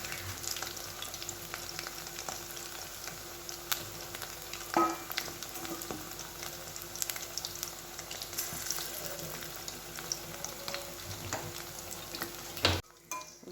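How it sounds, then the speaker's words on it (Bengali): Chicken pakoras deep frying in hot oil, a steady close crackling sizzle with occasional pops and utensil clinks that continues for most of the clip before cutting off abruptly near the end. "এগুলো একটু লাল লাল করে ভেজে নেব"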